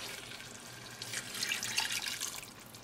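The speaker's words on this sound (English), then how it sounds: "So I'm going to add half cup more water." Half a cup of water poured into a pot of beef rice, a short close splashing trickle that swells slightly midway and runs steadily for a few seconds.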